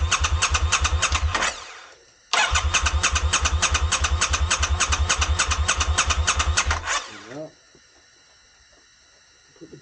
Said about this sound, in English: let's turn the engine on a little bit.